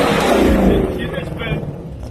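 Modified widebody Dodge Charger Hellcat revving hard to heat its tires for a burnout, a loud close engine roar that eases slightly after the first second, with voices talking over it.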